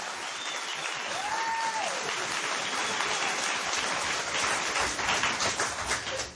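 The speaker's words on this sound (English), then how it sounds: "you can applaud for this wonderful crew" Sustained applause from an audience honoring the STS-135 space shuttle crew at a NASA Headquarters presentation, steady and dense throughout, with a faint whistle-like tone early on.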